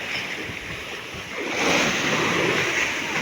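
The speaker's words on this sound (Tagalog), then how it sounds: "rinig nyo din ang hangin, ingay ng hangin" Wind roaring at sea in bad weather, with waves and surf rushing beneath it, loud and continuous and swelling stronger midway through, with no talking.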